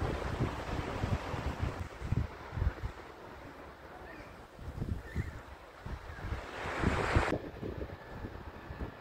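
Wind buffets the microphone over rolling surf at Christie's Beach in South Australia, gusts swelling and easing in a continuous, fairly distant wash with no talking.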